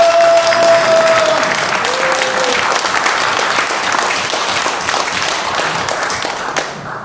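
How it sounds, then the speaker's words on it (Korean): Church elders at a spring retreat give a long, thankful round of applause in a hall, dense clapping that holds steady, with a brief voice heard early on before it slowly tapers away. "감사의 박수를 올리겠습니다."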